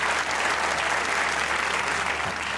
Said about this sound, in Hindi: ठीक भाई, वाह, तालियां होनी चाहिए।